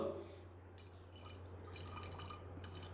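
A small amount of water poured into a flask to dissolve sodium carbonate for a chemistry practical, a faint, close trickle and drip over a low steady hum, with a soft voice murmuring near the start.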